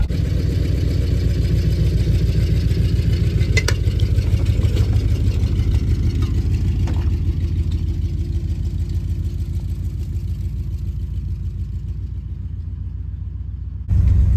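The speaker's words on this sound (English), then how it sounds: "We're idling" A Ford F-250 pickup engine idles steadily after a junk carburetor was replaced, a low, even rumble running close and alone for the whole stretch before a sudden shift near the end.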